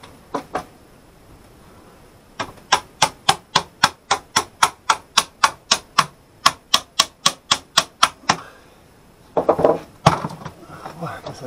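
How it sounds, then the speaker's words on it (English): Rapid, evenly spaced hammer blows, about two dozen sharp metallic strikes in a steady rhythm while working on an AC power strip, followed after a pause by a few clattering knocks. "Hammer, hammer."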